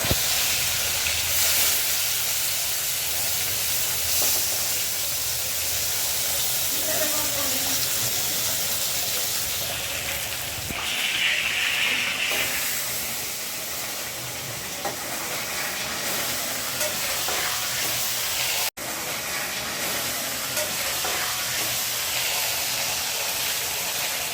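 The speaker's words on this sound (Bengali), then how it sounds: "মাছগুলো ভেজে নেই" Fish frying in oil in a pan gives a steady, loud hissing sizzle that carries on unbroken, with an occasional faint clatter.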